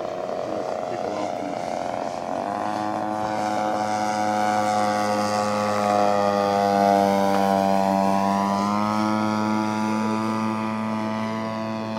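A model de Havilland DH.94 Moth Minor monoplane trainer drones overhead, its steady engine tone holding loud and continuous while the pitch dips and rises as it passes.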